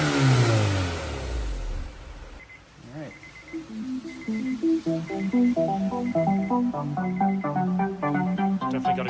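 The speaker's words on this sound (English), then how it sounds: "It's definitely sounding nicer without being drony." A Honda S2000 fitted with a UK exhaust mod revs up and falls back, its engine note climbing in repeated pulls, loud and close, with a hollow exhaust tone throughout.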